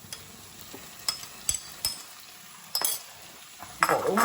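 Rohu fish and fried eggplant are stirred in a frying pan, with sharp utensil clinks and scrapes against the pan at irregular intervals over a soft, low sizzle.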